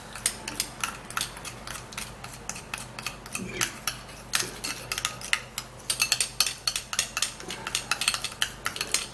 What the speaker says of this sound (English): now we would have to be mixing this all up